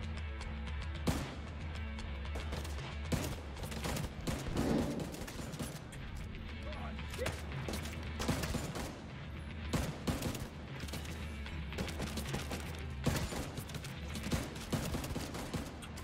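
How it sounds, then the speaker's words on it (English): Heavy gunfire in The Division 2 erupts in dense, loud, sustained bursts of rapid shots that run almost without pause, with faint voices underneath. "This gun is heavy duty, my friend."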